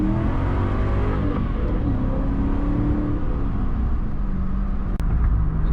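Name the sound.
1997 Ford SVT Mustang Cobra accelerating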